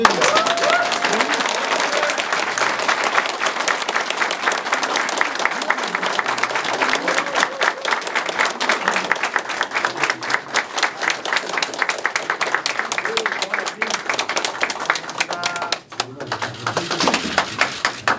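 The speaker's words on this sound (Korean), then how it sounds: "박수 한번 쳐주세요" Applause at a political meeting with party advisers and leaders, a long run of rapid, dense clapping from a room of people, loud and close, with voices heard in the room.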